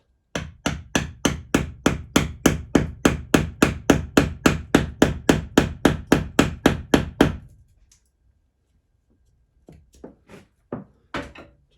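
A hammer drives a wall plug into breeze block with about twenty-five sharp, evenly spaced close blows for seven seconds, then silence and a few lighter taps.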